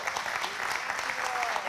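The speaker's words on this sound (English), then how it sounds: "Can you give the Lord a hand clap?" A church congregation claps together in a dense, steady burst of applause that fills the room.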